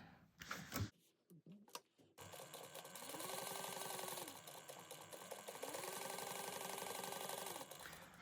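Steady whirring run of a sewing machine basting a bag panel, starting after a few handling clicks and continuing evenly with a slight cyclic rise and fall, close and clear.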